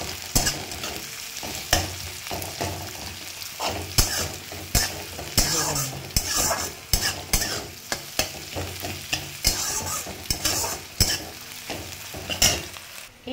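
A spoon stirs masala with Kashmiri chilli powder and sugar as it fries for biryani, giving a sizzling hiss broken by irregular scraping strokes, close and fairly quiet, with no talking.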